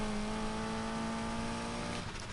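In Need for Speed Heat, a BMW carrying a McLaren twin-turbo 3.9-litre V8 holds a loud, sustained high-rev drone under acceleration, easing slightly at the end, with no voices.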